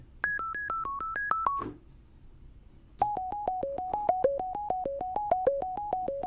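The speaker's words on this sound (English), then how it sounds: "I think this is a nice little like sort of pluck melody kind of arpeggiator" A synthwave-style pluck arpeggiator melody plays on a synthesizer for a song cover: short, evenly spaced notes step through a higher phrase, pause briefly, then resume with a lower repeating pattern.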